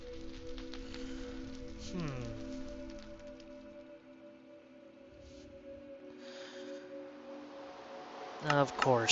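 Rain falls in a blocky Minecraft-style game world as a soft, steady patter at low level, layered under a game's tonal background music.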